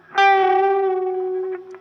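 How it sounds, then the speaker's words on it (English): Electric guitar through a reverb effect plays one sustained, bent note that rings on and decays slowly, with no other sound alongside it. "So the whale motif is achieved by essentially having a bit of reverb on the guitar."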